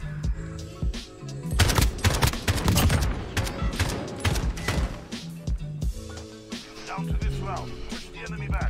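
Video game shooter gunfire comes in rapid, loud bursts of close automatic shots, with dense volleys in the middle and sparser shots toward the end.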